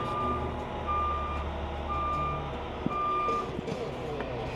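A truck backing up with its reversing alarm sounding, a regular series of spaced beeps over a steady diesel engine rumble, close and fairly loud.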